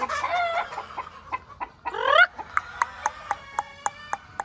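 A Claret gamefowl hen cackles right after laying an egg, with a rising squawk and then a steady run of rhythmic, close, clear clucks.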